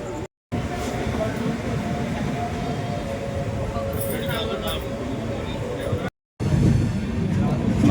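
A Nalgonda to Tirupati passenger train rolls slowly near Nallapadu Junction, its carriages giving a steady, close rumble with rattling wheels that drops out twice for a moment.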